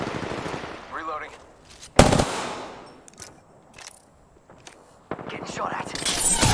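Automatic weapon fire crackles in the Apex Legends video game, with rapid bursts near and loud, a sharp impact, then a quieter lull before another dense volley at the end.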